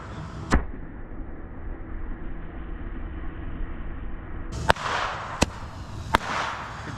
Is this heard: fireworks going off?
yes